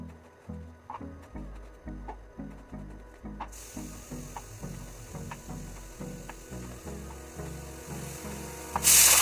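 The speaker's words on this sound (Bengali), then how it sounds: "আমি এখানে এটার জন্য আদা জিরা এগুলি বেটে নিচ্ছি" Ginger and cumin ground by hand, with steady rhythmic rubbing strokes about two per second, close and even throughout, ending in a sudden louder scrape, and no talking.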